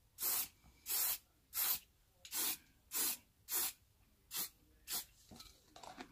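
Eight short bursts of hairspray hiss in a steady rhythm, close up, each about half a second long, with brief quiet gaps between them.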